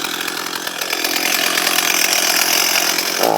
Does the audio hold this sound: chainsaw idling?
yes